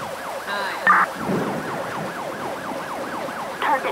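A wailing ambulance siren in Grand Theft Auto 5 with the LSPDFR police mod near Sandy Shores, rising and falling steadily and fairly loud, with brief radio-like beeps over it.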